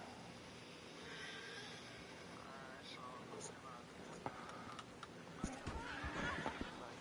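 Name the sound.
horse neighing in Red Dead Redemption 2 video game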